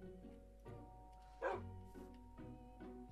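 Dogs bark in the video game Minecraft, several short, clipped barks spaced about half a second apart, one louder bark standing out, over a low steady hum.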